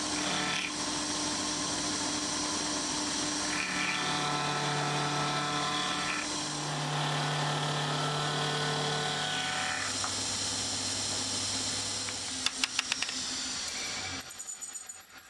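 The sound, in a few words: milling machine end mill cutting a radius on rotary table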